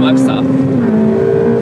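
A Ferrari on a scenic road pulls hard, its engine note holding a loud, steady tone that dips slightly and settles higher as it accelerates, with a brief voice near the start.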